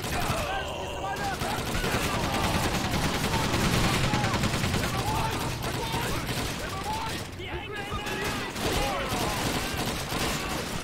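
Continuous rifle and machine-gun fire from a Call of Duty 2 firefight, dense overlapping shots ringing out throughout the battle while someone talks over the noise.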